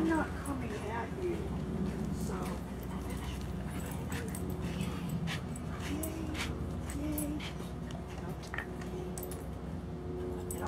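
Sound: dog panting and whimpering

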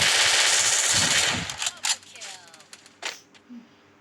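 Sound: gunfire in the video game Free Fire

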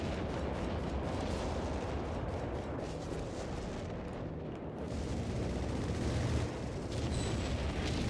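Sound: artillery fire in video game Company of Heroes 3

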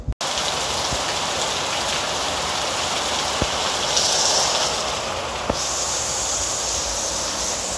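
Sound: heavy rain falling in Merida, Mexico

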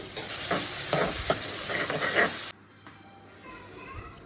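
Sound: onions and curry leaves frying in a pan

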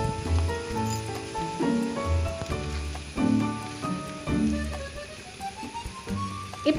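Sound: light rain drizzling

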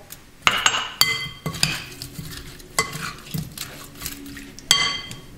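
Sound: tomatoes being added and stirred into shrimp curry

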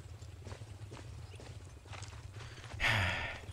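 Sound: horse hooves in a video game

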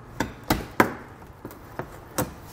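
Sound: prying out plastic pushpin fasteners with trim tool

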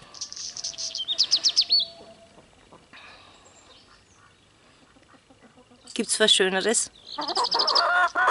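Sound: hen clucking

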